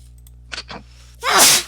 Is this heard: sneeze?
yes